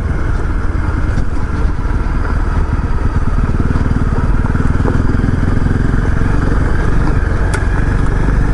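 A 2018 Honda CRF250L dual-sport motorcycle rides along a fire and logging road, its engine droning loudly and steadily throughout with rough low rumble and rattling from the gravel surface, with no talking.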